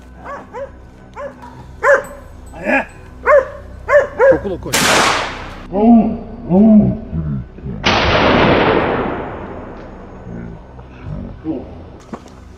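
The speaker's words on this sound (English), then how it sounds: "At another location, I heard the hunting dogs barking loudly." Hunting dogs bark loudly and repeatedly in a rhythmic series on a Texas farm during a wild boar chase, broken by two sharp loud bursts like gunshots.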